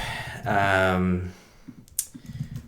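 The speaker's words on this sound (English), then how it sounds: "So now when we type" Computer keyboard typing during a front-end React coding session: a handful of soft, irregular key clicks close by, following a brief louder tonal sound at the start.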